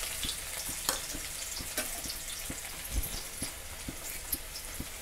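Onion frying in hot oil with cumin and mustard seeds for a tiffin vegetable dish, a faint continuous sizzle under regular soft knocks of a spoon against the pan.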